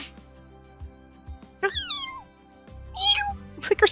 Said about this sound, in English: Like her squeaky meow, it's so cute.